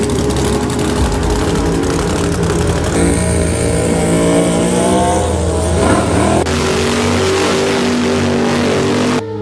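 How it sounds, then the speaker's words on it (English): Drag race car sitting on the start line against a rival, engine held on boost to spool the turbo, a loud continuous revving roar with shifting pitch that holds for about nine seconds and then cuts off abruptly. "I sat and boosted the car."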